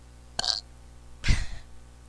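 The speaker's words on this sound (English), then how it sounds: "Oh, I got a burp" A person lets out two short burps, the second deeper and throatier, close up with no talking.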